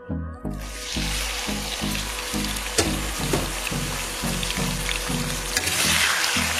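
Chicken pieces, salted beforehand, sizzle and fry in hot oil with bay leaf and melted sugar in a home kitchen, a steady loud crackle with rhythmic scraping stirs running through it and no talk.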